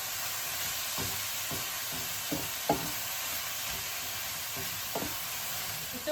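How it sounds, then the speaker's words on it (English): Silver beet and spinach wilting in a hot pan, steady soft sizzle and hiss throughout, with occasional scraping stirs of a utensil against the pan, close and fairly quiet, no voices. "Just gently waiting and stirring and keeping it moving until they have softened."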